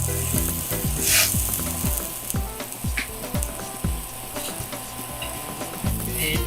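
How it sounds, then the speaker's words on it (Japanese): Konjac beef rolls dusted in potato starch searing seam-side down in a pan, a steady crackling sizzle with sharp irregular pops and taps of the rolls or utensil against the pan throughout. "初めに全体的に軽く焼き目をつけます。"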